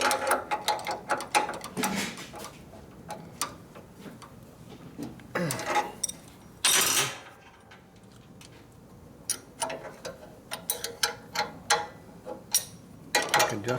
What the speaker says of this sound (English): I can put my tightener wrench on here